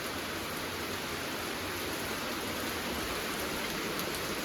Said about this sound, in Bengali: প্রচণ্ড জোরে বৃষ্টিটা হচ্ছে